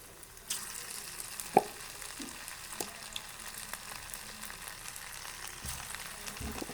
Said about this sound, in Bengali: পাকোড়াগুলো ভেজে নেব